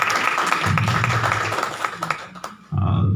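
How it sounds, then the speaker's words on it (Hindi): Loud clapping welcomes a guest speaker at a Hindi literary lecture, a dense burst of applause from the audience that briefly thins and falters before picking up again with a low murmur underneath. "आप लोग जोरदार तालियों से उनका स्वागत करिए।"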